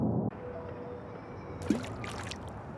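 A stone drops into water and lands with a single soft splash partway through, over a steady low background wash.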